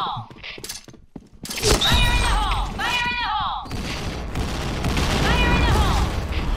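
Bomb blasts in a multiplayer video game, heavy booming bursts with rattling debris and layered game effects, loud and close, while players talk over the chaos.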